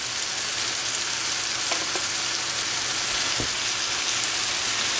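Small pieces of steak fry steadily in a pan, a dense, even sizzle that holds close and loud for the whole stretch, with a couple of faint knocks and no talk.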